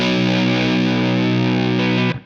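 Played through a Fuzz Face fuzz pedal, an electric guitar holds one thick, buzzing chord, loud and up close, for two seconds before it is choked off.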